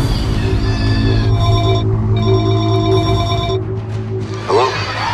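Repeated bell-like rings of a telephone in a house, two long trilling bursts close and loud over a steady low hum, ending in a brief rustle.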